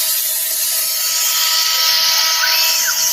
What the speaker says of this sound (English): You can see he's got his mist cooler on, and he's engraving in aluminum.